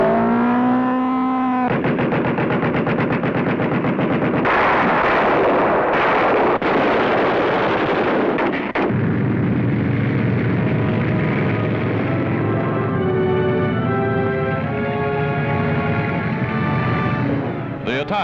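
Explosions burst around a landing craft hit during the Allied landing at Anzio in wartime Italy, heavy booms and rumbling blasts over crackling, distorted newsreel sound, loud and harsh with a tonal hum at the start and end.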